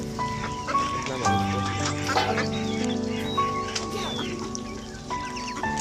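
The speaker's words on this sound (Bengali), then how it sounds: "এই দেখেন হাঁসগুলো" Several ducks quack in overlapping bursts close by, their nasal calls coming in irregular clusters.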